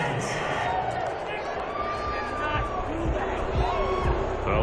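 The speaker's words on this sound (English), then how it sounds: "this crowd does not like that call" Stadium crowd in an American football video game reacting to a roughing penalty flag on a Cleveland Browns third-down incomplete pass, a steady broad roar of jeers and murmuring throughout, with scattered thumps beneath.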